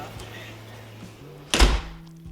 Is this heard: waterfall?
no